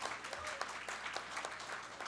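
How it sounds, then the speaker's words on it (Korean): An audience at the founding general assembly of a South Jeolla residents' autonomy council in Suncheon claps together, giving a fairly faint but continuous patter of applause that holds steady for a couple of seconds. "우레와 같은 박수로 부탁드리겠습니다"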